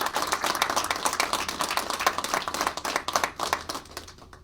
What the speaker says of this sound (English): So can we give all the family members a round of applause?